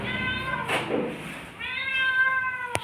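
A domestic cat meows twice, close and fairly loud: a drawn-out cry, a short pause, then a second, longer meow with a sharp click right at the end.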